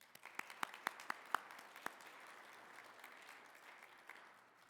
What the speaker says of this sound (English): Please, everyone, give him a round of applause.